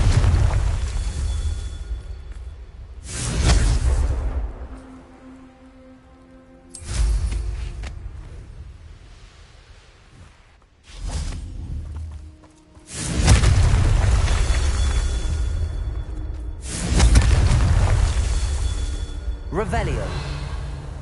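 Confringo fire spell explosions in Hogwarts Legacy, several heavy booming blasts with rumbling tails spread across the clip, the later ones long and loud, separated by quieter stretches.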